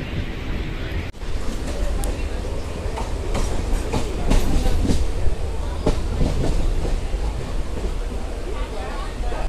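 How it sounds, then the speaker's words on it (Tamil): An unreserved Coimbatore–Nagercoil passenger train passes through Karur junction station, close and loud, with continuous rumbling and rhythmic wheel clatter over the rails after a sudden onset, with voices faintly mixed in. "கோயம்புத்தூர்லேருந்து நாகர்கோவில் போகிற அந்த அன்ரிசர்வ்டு ட்ரெயின் தாங்க வரப்போகுது"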